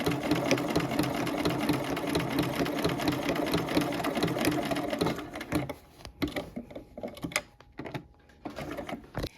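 Orange thread runs through a sewing machine stitching around flower centers on a quilt, a close, rapid, steady whir that breaks off midway into scattered short bursts and pauses.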